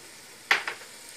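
Spinach and mutton fry in oil in a pan, with a faint low hiss that gives way to two quick sharp bursts of stirring sizzle near the middle, brief and alone.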